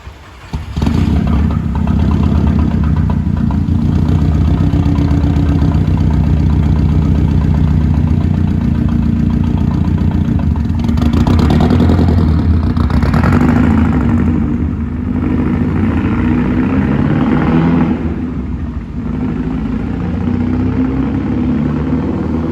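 A Volkswagen Golf 6R with a stage 2 tune idles roughly with a slight idle fault, its engine rumbling steadily and loud up close, with small uneven surges and no talk.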